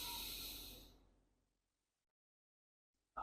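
A deep breath drawn in during a breathing exercise, a loud, close, airy inhalation lasting about a second that fades into silence, followed by a short sharp sound right at the end.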